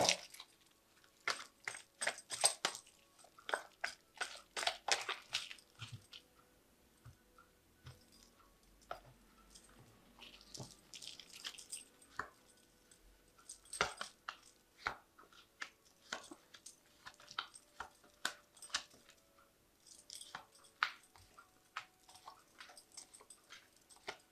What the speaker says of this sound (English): I'm just going to, give it a quick shuffle again.